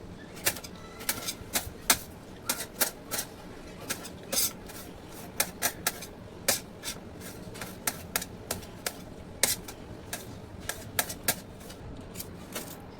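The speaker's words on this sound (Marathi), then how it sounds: "आता आपण टमाटर कटिंग करून घेऊया" A knife chops tomatoes on a cutting board in a steady run of sharp, close taps, sometimes quick and sometimes spaced out, over a faint background hiss with no talking.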